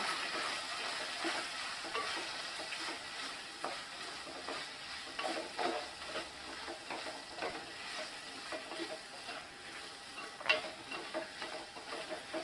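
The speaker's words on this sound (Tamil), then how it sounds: "இப்போ இதை நல்ல ஒரு மிக்ஸ் கொடுத்துடலாம்" Madurai-style mutton sukka with torn dried red chillies stirred in a pan: soft continuous frying sizzle under repeated scraping and stirring strokes, with a sharper clatter near the end; no voices.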